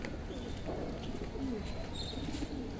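Several homing pigeons coo softly inside their enclosure, low repeated murmuring calls with a few faint chirps from other birds around, close and steady under a constant background hum.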